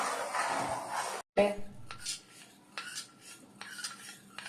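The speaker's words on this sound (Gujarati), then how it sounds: "હવે આને ધીમે ધીમે આપણે હલાવ્યું।" A spoon stirs a custard and chocolate mixture in a pan, making close, repeated scraping and clinking strokes in a steady rhythm after a brief burst of broadband hiss at the start.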